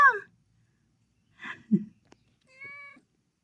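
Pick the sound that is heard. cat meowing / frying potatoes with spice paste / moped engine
cat meowing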